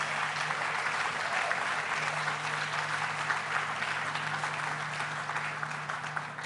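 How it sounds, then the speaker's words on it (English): An audience at New York's Tribeca Film Festival claps loudly and continuously, a dense sustained wash of applause with a faint steady hum underneath. "Let's give her a big round of applause."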